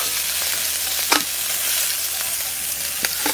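A fish head fries in a pan during Santali-style village cooking, giving a continuous loud sizzle with a few sharper pops and stirring scrapes, with no talk.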